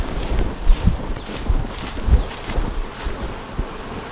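Honey bees in a double deep nuc hive give off a steady, diffuse hum with soft bumps and knocks from handling the hive, heard close with no talking.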